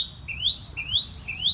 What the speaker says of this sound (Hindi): कितनी सुंदर कोयल बोल रही है।